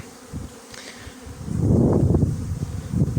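Honeybees buzz steadily around a hive after prolonged rains, some carrying pollen, the droning hum swelling louder and denser after a moment as more insects fly close by.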